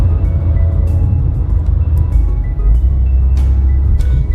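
Inside a moving Renault 20, a popular French car of the 1970s and 80s, a loud, continuous low engine and road rumble carries on throughout, with small rattles and no talk.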